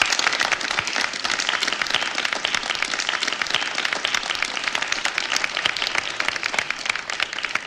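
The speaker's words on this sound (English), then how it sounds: "Go ahead and clap." A small audience claps for a first graduating class at a gathering, dense overlapping handclaps with crisp individual strikes, fairly close and lively, holding steady for several seconds.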